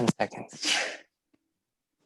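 One sharp, loud sneeze bursts out right after a few quick spoken words during an at-home fitness class, followed by near silence.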